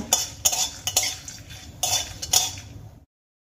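Whole spices, cracked cardamom and cinnamon pieces, fried in oil in a pan, with repeated scraping stirs and clinks of a spoon over a faint, steady sizzle, then stopping abruptly.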